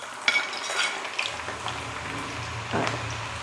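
Potatoes for crispy aloo chaat drop into hot oil in a kitchen, starting a close, steady frying hiss with a few clinks and stirring knocks over it. No one speaks.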